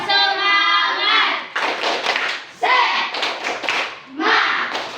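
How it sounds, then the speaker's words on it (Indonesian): Children in an Indonesian primary school classroom doing a rhythmic clapping chant, bursts of voices chanting together with claps, loud and close, in short phrases separated by brief pauses. "Tepuk semangat. Semangat. Semangat. Sekali lagi lebih semangat."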